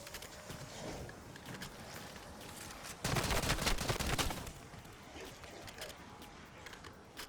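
Rapid bursts of video-game gunfire aimed at zombies, a dense crackle of shots that swells loudest midway through, with spoken talk running underneath.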